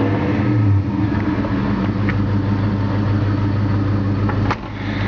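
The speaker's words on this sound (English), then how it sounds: "It's got a Flowmaster exhaust system. Now, of course, that's not original, but you can hear it." A 1964 Ford Galaxie 500 Z-Code engine rumbles loudly and steadily through an aftermarket Flowmaster exhaust, close by, with a slight dip and swell in revs.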